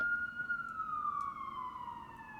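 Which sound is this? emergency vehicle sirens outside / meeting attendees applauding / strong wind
emergency vehicle sirens outside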